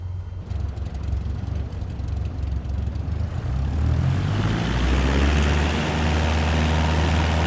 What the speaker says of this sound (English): Apply full power to get us moving